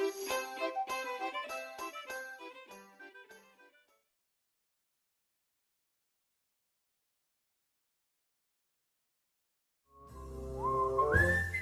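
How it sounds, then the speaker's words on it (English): Whistling beluga whale heard as a rising, squeaky whistle after a long silence, following an opening run of bright chiming, tinkling tones. "Sings the whistling beluga whale."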